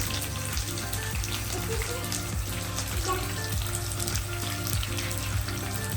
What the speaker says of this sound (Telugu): కొంచెం లైట్గా ఫ్రై అయ్యేదాకా మగ్గేదాకా కొంచెం వేపుకోవాలి